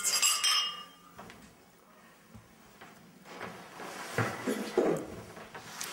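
Glasses clink together in a toast, several light, bright chinks scattered across the moment amid faint rustling and soft handling sounds, no voices over them.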